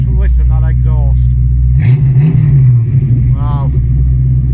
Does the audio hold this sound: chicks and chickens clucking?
no